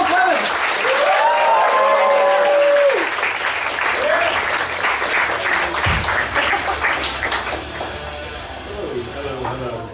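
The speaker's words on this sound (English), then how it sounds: "I'd like to build up the applause once more" Comedy club audience breaks into sustained, fairly close applause for an act coming onstage, with a voice talking over it at first and the clapping thinning toward the end.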